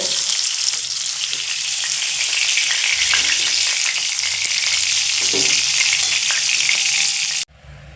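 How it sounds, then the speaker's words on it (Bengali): Broad beans and potatoes frying in oil give a loud, steady sizzle that runs unbroken and close, with small crackles and stirring noises, before it cuts off abruptly near the end. "সিম আর আলু আমার ভাজা হয়ে গেছে আর দেখুন আলু কিন্তু পুরো সিদ্ধ হয়ে গেছে"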